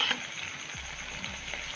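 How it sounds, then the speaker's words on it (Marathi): Khari puff pastry deep-frying in hot oil until golden, giving a steady, close bubbling sizzle on its own with no voices. "याला सोनेरी कलर येईपर्यंत आपण चांगलं दमाने तळायचं आहे."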